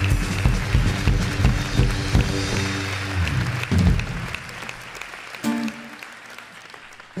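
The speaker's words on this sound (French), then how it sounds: "On va pouvoir applaudir les deux en même temps" Audience applause at a graduation ceremony, a burst of clapping that swells and then thins out, with music and a few voices mixed in underneath.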